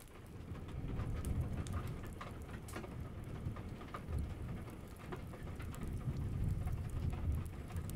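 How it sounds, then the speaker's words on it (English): Steady rain patters on a surface in a dense, continuous hiss with a soft low rumble underneath. It is even and moderately loud throughout, with no voices. "Rain sounds far better than I imagine."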